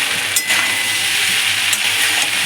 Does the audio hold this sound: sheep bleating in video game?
no